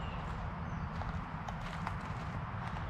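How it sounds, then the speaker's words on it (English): Horse hooves clip-clopping close behind in pursuit, a quick, loud run of irregular hoof strikes over a rough background rumble, with no voices. "Got a horse after me."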